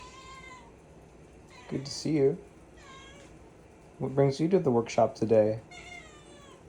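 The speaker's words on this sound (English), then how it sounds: "That's my cat." Pet cat Pepper meowing in a workshop, several drawn-out close meows in the gaps between someone talking to it.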